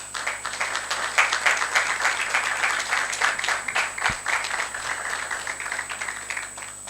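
An audience at a conference claps for an arriving guest, a sustained patter of many hands under a constant high electronic hum, with one sharp thump partway through.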